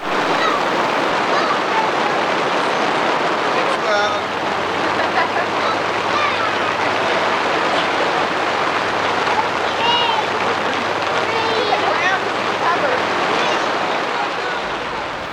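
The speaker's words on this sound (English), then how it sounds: "The hail came back, and it kept going and going." Hail pounds an old Volvo station wagon outside in a dense, unbroken roar that holds steady for the whole stretch, loud and wash-like, with faint voices murmuring underneath.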